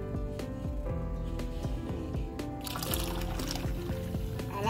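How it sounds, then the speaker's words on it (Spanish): Hot water being poured into freshly extracted coconut milk, a continuous liquid pour with splashing and gurgling that brightens and grows fuller toward the end. "ponemos a calentar 1 taza de agua y se la añadimos a la leche del coco"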